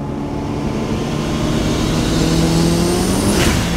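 A Honda Turbo car on semi-slick tyres cruises a motorway in the rain, its engine droning loud and close with a steady tonal hum that slowly climbs in pitch as it pulls, alongside road and wind roar.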